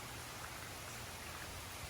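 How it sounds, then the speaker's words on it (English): A summer rain shower falls steadily outdoors, a dense, even hiss of drops heard alone and fairly faint, with no voices over it. "and the rain comes down."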